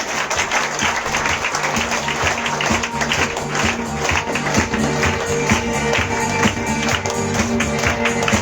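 A church congregation claps hands during Sunday worship, a dense, steady wash of many palms filling the room, with faint voices and music underneath.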